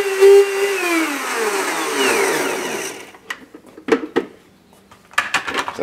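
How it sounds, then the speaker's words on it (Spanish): A blender grinding flaxseed whirs loudly for about three seconds, its motor pitch slowly dropping, then cuts off, followed by scattered knocks and scraping. "Yo lo puedo moler en mi licuadora."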